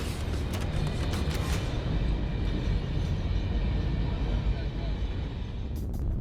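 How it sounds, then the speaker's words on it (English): A very long freight train rolls past in the Mauritanian desert near Zouerat, a continuous heavy rumble and clatter of wagons that holds steady throughout, with brief rattling bursts at the start and end. "That's like 1 kilometer train."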